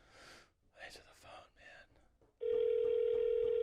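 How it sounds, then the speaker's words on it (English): A steady, loud ringback tone on an outgoing phone call cuts in after a few seconds of hushed, whispery talk and holds unbroken to the end. "Come on, answer the phone."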